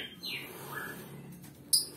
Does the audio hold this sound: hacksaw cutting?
no